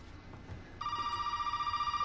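A telephone rings in Resident Evil 7, a steady repeating electronic ring that starts partway through after a quiet stretch and continues to the end, fairly loud and alone with no talk.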